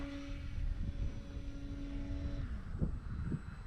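A Hobby Zone Carbon Cub S2 RC airplane's small electric motor whines steadily and then drops in pitch, heard faintly under heavy wind noise outdoors.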